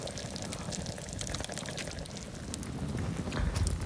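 Water is poured into a pot of goulash cooking outdoors in a forest, a steady splashing, gurgling stream at moderate loudness against open-air background.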